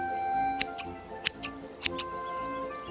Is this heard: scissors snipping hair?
yes